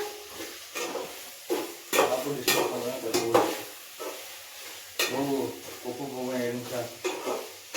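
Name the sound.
peanuts frying in a pan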